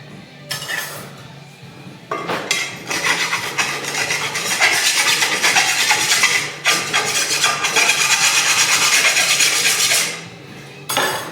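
A hand file rasps in long, sustained bursts close by while a tractor tire chain hoist is being built, with a brief clink before the filing starts and a short pause partway through.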